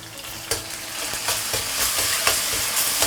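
Six-month-aged red-oil chili bean paste stir-fried over low heat with minced ginger and garlic, a loud, steady sizzle with repeated spatula scrapes at an even rhythm, close up with no speech.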